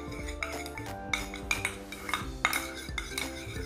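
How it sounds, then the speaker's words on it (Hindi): A spoon clinks and scrapes against a bowl while a homemade honey face pack is stirred, with quick, irregular taps close by and no voices. "अब हम इसे अच्छे से मिक्स कर लेंगे।"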